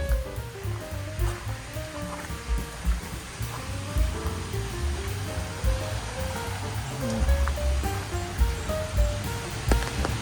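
Steady overnight rain hissing and pattering over a continuous wash of noise, with faint tonal sounds drifting underneath.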